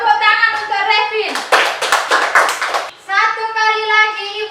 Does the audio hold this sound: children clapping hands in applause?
yes